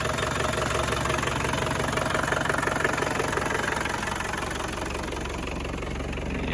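A 1990 Land Rover Defender 110 with the 200tdi diesel engine idles steadily, a rough, even diesel clatter with a constant throb and no voices over it.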